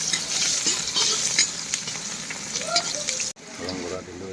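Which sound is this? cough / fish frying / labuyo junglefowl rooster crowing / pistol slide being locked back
fish frying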